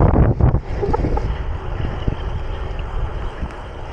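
Strong wind buffets the microphone during a gravel bike race, producing loud, rumbling gusts that are heaviest at the start and then ease into a steady roar.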